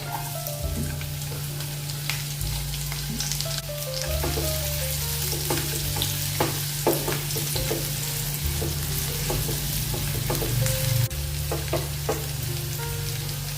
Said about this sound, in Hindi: प्याज को भी हमने थोड़ा सा भून लिया है।